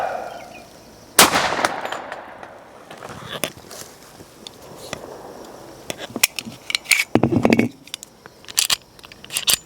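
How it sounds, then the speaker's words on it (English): A single sharp report from a Springfield Armory mil-spec 5-inch 1911 in .45 ACP firing a Hydra-Shok Deep 210-grain round at an outdoor test setup, followed by scattered clatter and handling noises. "shot it out of a 5-inch 1911, specifically a mil-spec by Springfield Armory"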